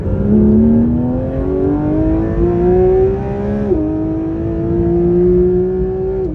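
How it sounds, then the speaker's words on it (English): Porsche 992 GT3 RS engine on a wet road, revving steadily upward through the gears with a clear rising tone, one shift break midway, loud and close with no voices. "at least we can test the GT3 RS in wet conditions now before we go to the snow"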